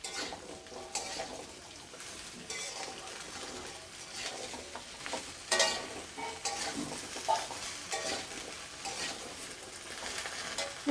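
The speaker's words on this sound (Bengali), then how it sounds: "ভেজে নিচ্ছি" Pieces of ridge gourd and potato sizzle as they fry in a pan, with a spoon stirring and scraping at an uneven rhythm. A few sharper clinks come through, and there is no speech.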